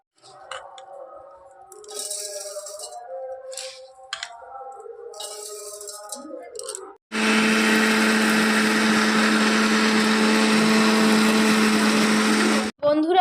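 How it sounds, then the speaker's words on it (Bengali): A mixer grinder blends 500 grams of raw atap rice in small batches into powder. Talk comes first, then a loud, steady, close whir runs for about six seconds and stops abruptly. "তো আতপ চালগুলোকে আমি মিক্সিতে ভালো করে ব্লেন্ড করে নেব"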